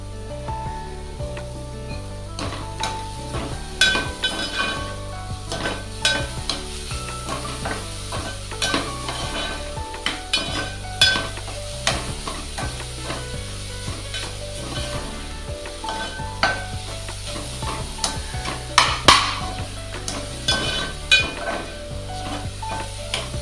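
Wet grated coconut with raisins roasts in a pan for a beetroot coconut karanji filling, crackling and sizzling steadily while a spatula stirs and scrapes in a continuous, close rhythm.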